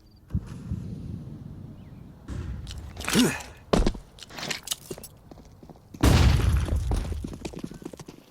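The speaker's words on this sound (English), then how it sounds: "Footsteps heard by G2, and you're not mistaking the sound of 10 feet coming your way" Several Counter-Strike players' footsteps approaching B site during a MOUZ vs G2 match, heard as scattered thuds and scuffs with louder bursts, close and distinct over low game ambience, no talk.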